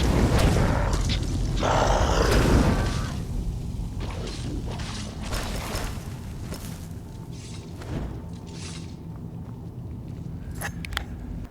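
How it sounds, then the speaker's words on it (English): A fire rune explodes in Skyrim with a loud, booming burst and crackling roar in the first seconds, followed by grunting, clanking combat sounds and lingering rumble. "Good old fire runes."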